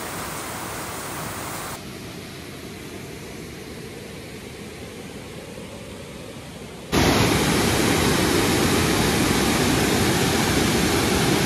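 Water rushing through the three open gates of Rajiwali Dam near Sangameshwar, a loud, constant roar of broadband noise that drops briefly and then surges louder again, with no voices.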